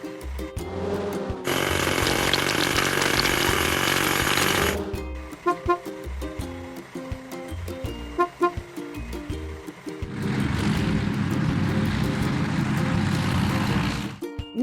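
A hydraulic hammer cracks rocks in a children's city construction video game, with loud, steady mechanical rattling and pounding in long bursts over cheerful game music and sound effects.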